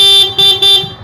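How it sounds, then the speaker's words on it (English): Stock horn on a Yamaha MT-15 motorcycle sounds in three loud, close, steady honks, each about a quarter second long and separated by short gaps. "Ito yung stock horn niya."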